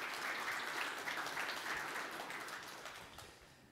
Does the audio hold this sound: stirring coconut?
no